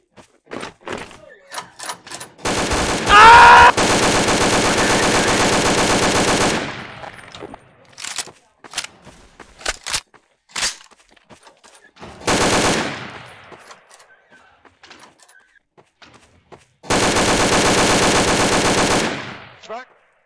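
Gunfire in the sandbox game Garry's Mod, loud sustained machine-gun bursts separated by quieter scattered single shots and thumps, with several long sprays near the start and end.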